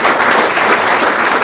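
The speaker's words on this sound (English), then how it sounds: "How about a round of applause?" Loud, dense applause from a community forum audience on fighting fentanyl, a brief, even burst of many hands clapping close by with no voices over it.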